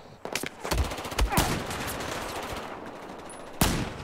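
Gunfire in a shooter video game: a cluster of sharp, punchy shots and a short automatic burst early on, a quieter lull, then one more loud crack near the end, with no talk over it.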